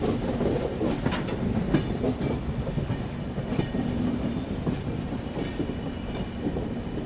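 Sapt Kranti Express train running steadily on rails just after leaving Sagauli station, a continuous close rumble with faint rhythmic wheel clatter throughout and no talking.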